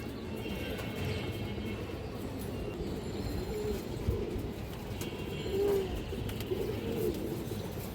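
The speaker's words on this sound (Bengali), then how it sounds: "এ দেখেন ইউনিক একটা মাদি কবুতর" Soft, low coos of a female pigeon surface a few times over a steady background hum, faint and somewhat distant, with no talking.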